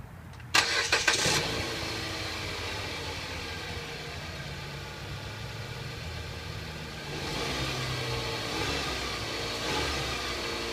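A Dodge Avenger car engine cranks briefly and fires, then settles into a steady idle that rises slightly in level partway through, heard alone and fairly close.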